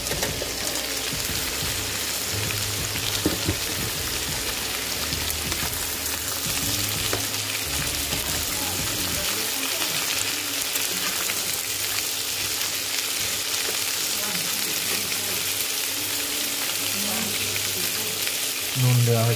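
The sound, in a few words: carrots and cabbage lightly frying in a pan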